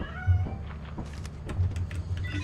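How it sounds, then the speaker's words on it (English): A cat meows a few times in short, strained cries over a low background hum, moderately close. "That poor cat."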